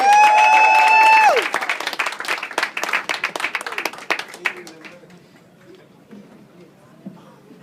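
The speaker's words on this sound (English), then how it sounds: "Give him a big round of applause for Bill Russ, everybody!" Clapping erupts from a comedy club audience after a brief held tone, loud at first and then thinning into scattered claps and murmurs before fading out.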